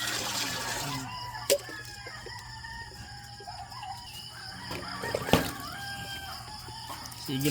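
Chickens and a rooster at feeding time on a small Filipino farm, with clucking and drawn-out crowing calls layered over steady background noise and a couple of sharp knocks.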